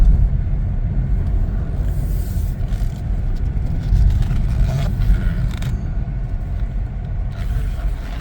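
A 2024 Chevrolet Trax 2RS with sunroof and 13K miles rolls along at steady speed, its cabin filled with continuous low road rumble and faint creaks, no talking.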